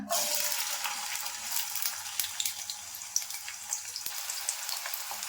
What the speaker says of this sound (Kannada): 50 ಗ್ರಾಮ್ ಎಣ್ಣೆ ಹಾಕೊಂತಾ ಇದ್ದೀನಿ. ಈರುಳ್ಳಿ ಹಾಕೊಳ್ಳೋಣ.